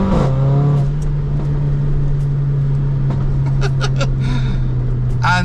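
A Mercedes A45 AMG with a stage 3 hybrid turbo accelerating on a country road, a loud steady engine drone heard from inside the car, with brief voice sounds at the start.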